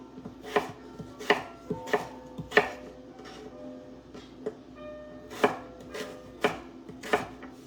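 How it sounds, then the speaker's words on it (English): A knife dicing sweet potatoes on a cutting board, about ten sharp, close knocks at an uneven pace with short pauses between them, and no voice. "So we're almost done dicing up these sweet potatoes."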